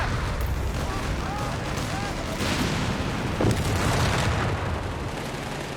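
Mortar fire from a dug-in mortar pit on a hill in Company of Heroes 3, heard as muffled booming thuds within a dense, steady battle din, under occasional talk.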